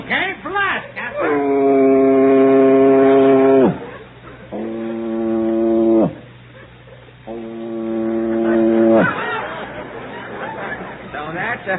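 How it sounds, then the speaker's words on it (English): A foghorn sound effect on an old radio comedy broadcast blasts in three long, loud, steady tones with short gaps, heard over studio audience chatter and laughter. "So that's a foghorn."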